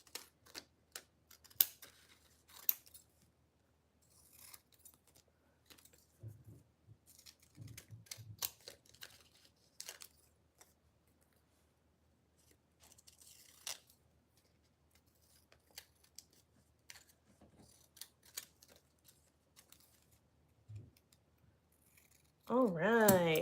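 Scissors snip paper for a collage in scattered, crisp cuts throughout, close and fairly quiet, interleaved with handling rustles and a few louder clicks near the end.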